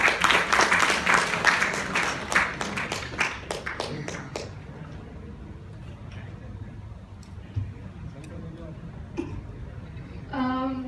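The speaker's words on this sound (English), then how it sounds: "Clap for her." Audience clapping at a public-speaking session, a brisk burst of hand claps for several seconds that thins into scattered taps and quiet room noise, with brief voices afterward.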